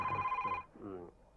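A telephone rings during a call being placed, a steady electronic ringing tone sounding under a voice for the first half second, then giving way to continued talk.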